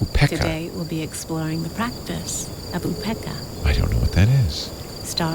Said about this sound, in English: do you hear the crickets in the background?